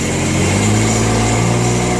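An old, neglected Jacobsen mower's small engine idles loudly and steadily up close, a continuous low putter with a buzzing rattle.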